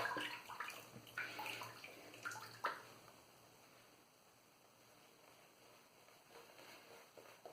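Water from a tap splashes in brief, faint bursts while shaving lather is built with a Semogue 1250 brush and CRSW Puro Fresco soap, followed by several seconds of near quiet.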